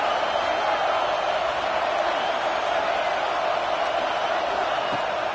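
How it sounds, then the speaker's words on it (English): A home crowd roars steadily through a video-game college football matchup between Clemson and Texas, a dense, continuous wash of stadium noise that stays loud and even throughout, with no distinct voices standing out. "how nice is it to have the home crowd going absolutely bananas?"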